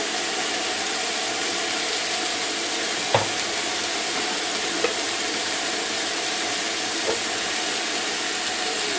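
Minced meat frying in a pan with onions, a steady even sizzle throughout with a few faint clicks of a utensil touching the pan.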